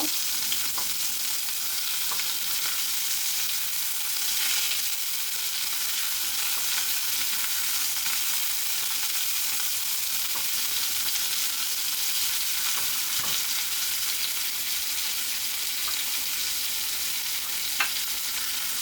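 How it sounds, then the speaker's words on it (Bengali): Chopped onion frying in oil in a pan for a fish dopiaza, a steady even sizzle throughout with occasional light stirring scrapes, close and continuous with no talking. "দিয়ে এটাকে নেড়ে করে হালকা করে একটু ভেজে নেব"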